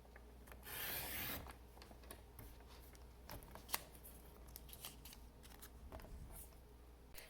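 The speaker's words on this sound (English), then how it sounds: "So we're going to cut 3/4 inch strips" Paper is cut into 3/4 inch strips for card making, with a brief rasping burst of cutting followed by quiet rubbing and soft scraping handling noises at low level.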